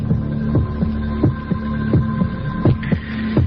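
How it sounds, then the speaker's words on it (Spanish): Recorded heartbeats throb in a steady rhythm, each beat a loud low double thump over a constant hum, about five or six beats heard alone. "Latidos de corazón"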